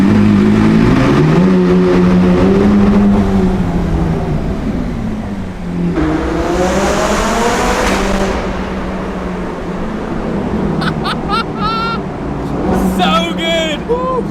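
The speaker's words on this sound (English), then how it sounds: "It's actually my first time redlining this car." Supercar engine revving hard toward redline on a city street, a loud, close rising and falling roar with strong harmonic whine, while people talk and cheer over it.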